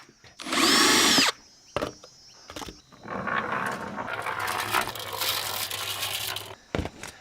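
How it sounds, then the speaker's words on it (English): A power drill bores holes in hydroponic pots: a short, shrill high-speed burst, a few sharp clicks, then a longer, grinding drilling pass at lower pitch, close and fairly loud. "I'm going to drill out all my holes, all my pots"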